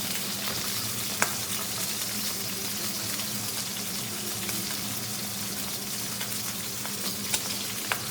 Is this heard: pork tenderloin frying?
yes